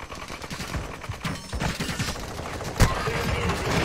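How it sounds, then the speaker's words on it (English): Gunfire in Warzone crackles in dense overlapping bursts of automatic fire, with one sharp, louder shot standing out partway through amid a busy battle. "Oh, we're getting shot from a higher building."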